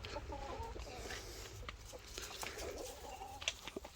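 Rhode Island Red chickens cluck softly in their coop, faint and distant over a low steady background hum, with scattered short calls.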